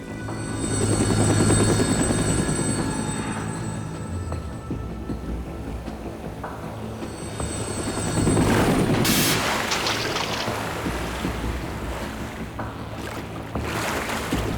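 A helicopter from Metal Gear Solid 2 approaching over the sea: a loud, steady rotor drone that swells twice as it comes nearer, with a deep rumble beneath it and no talk.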